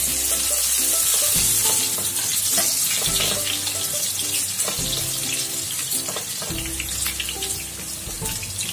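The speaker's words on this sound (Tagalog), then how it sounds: "Hintayin natin maging golden brown yung bawang para lumabas yung aroma ng bawang" Garlic sautéing in a pan for pork estofado, a loud, steady sizzle of hot oil with repeated scraping and stirring clatters of a utensil against the pan throughout.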